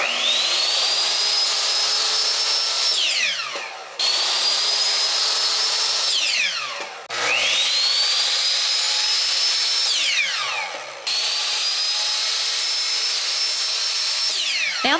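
Power saw or drill cutting furniture trim pieces to size, four loud sustained cuts, each rising in pitch as the motor spins up and winding down at the end, with brief pauses between passes.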